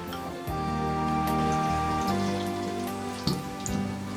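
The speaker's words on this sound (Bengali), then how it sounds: "মিডিয়াম আঁচে ভাজতে হবে" Eggplant slices dipped in gram-flour batter frying in hot oil over medium heat, a steady close crackle with a low humming undertone and brief louder bursts as pieces settle.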